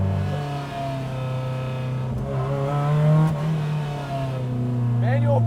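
A Lotus Exige S1 engine pulls steadily under acceleration, a close, loud mid-pitched drone that climbs in pitch as revs build, with short voice-like sounds near the end.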